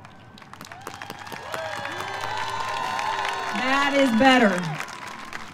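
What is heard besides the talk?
graduates' loud round of applause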